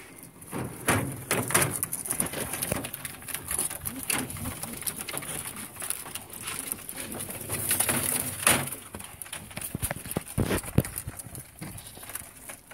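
Pigeons, including Birmingham rollers, crowd a loft at feeding time, cooing and fluttering over grain. Sharp wing-claps and pecking clicks break out irregularly over a continuous soft murmur of birds close by.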